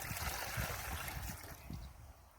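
Cold water pours into a container already holding about five litres of hot, boiling water. It makes a steady, close rushing and splashing stream that lasts throughout, with no talking.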